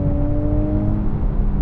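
A Nissan Z Performance with a manual gearbox and a 400-horsepower twin-turbo 3.0-liter V6 pulls hard under acceleration, a steady loud engine drone with a sustained tonal hum and no voices.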